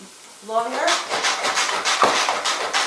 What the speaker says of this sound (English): check out how fast that's chopping everything up